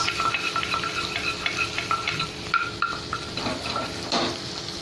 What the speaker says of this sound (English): To it we'll add garlic and we give it a quick mix.